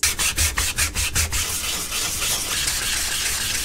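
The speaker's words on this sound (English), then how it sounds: "I am now done with the 800 grit sandpaper" Sandpaper rubbed by hand on a 3D printed prop sword at 800 grit, a quick series of rhythmic scraping strokes that settles into a steady, continuous rasping.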